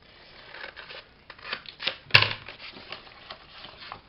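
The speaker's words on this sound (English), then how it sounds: "So I am just going to trim that myself." Scissors trim paper while a folio is being made, soft snipping and rustling building to one sharp, loud cut midway, close and quiet with no talking.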